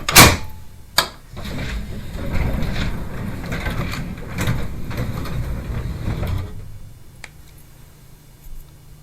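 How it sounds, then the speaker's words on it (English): A sharp mechanical click and clunk, then a sustained rumbling slide as a door opens, with a few knocks before things settle into quiet. "I'll open up the door"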